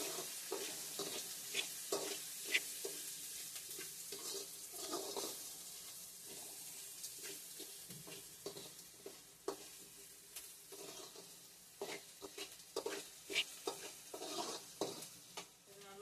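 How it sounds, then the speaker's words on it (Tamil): Onions sautéing in a pan for beetroot poriyal, a faint steady sizzle broken by frequent light scraping and tapping strokes of a spatula, close but quiet. "வெங்காயம் நல்லா வதங்கிடுச்சு."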